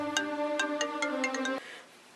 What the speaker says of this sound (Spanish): Espéreme que me está sonando el celular.